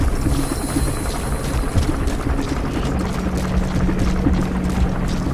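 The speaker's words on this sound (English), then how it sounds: "The helicopter hears everything!" A helicopter in the video game Metal Gear Solid 5 churns steadily, a loud, continuous rotor drone with rushing noise and a faint high whine, unbroken for the whole stretch.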